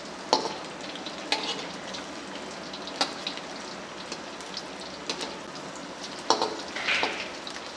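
Chatkhara boti meat fries in a pan with a steady, rain-like sizzle, punctuated by sharp scraping knocks of a spoon stirring at irregular intervals, close and fairly quiet with no talking.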